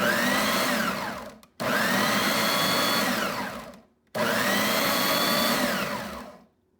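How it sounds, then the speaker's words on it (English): A blender with its lid on whirs loudly through fresh salsa with green onions in two long bursts, each winding down into a brief silence before the motor kicks back in. "The lid on it, it won't run without the lid, and then blend."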